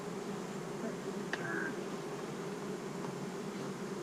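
A low, steady hum of honey bees buzzing close by at a hive with swarm cells, continuous and fairly quiet, with one brief sharper buzz passing near.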